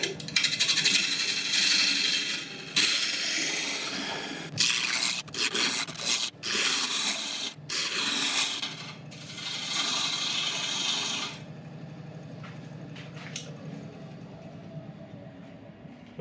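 A wood lathe turns a bowl at about 700 RPM while a sharpened bowl gouge cuts, giving a loud continuous rough scraping and rumbling with irregular bursts and catches, easing to a steadier softer hum near the end.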